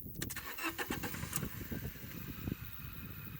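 A car engine cranks and starts, a steady run of low rumbling pulses with sharp mechanical clicks near the start, close by and fairly loud.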